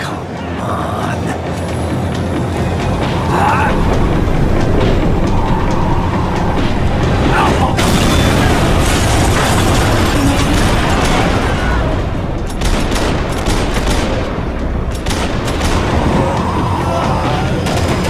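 A tram slowing down in Max Payne 3 makes a loud, continuous rail rumble with heavy clanks and booming knocks that swell and ease across the stretch.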